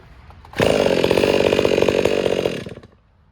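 A Stihl 462 and a Husqvarna 572 chainsaw roar loudly up close in one sustained high-revving burst of about two seconds, then drop back toward idle.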